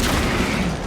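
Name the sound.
frag grenade explosion in Warhammer 40K Space Marine 2 video game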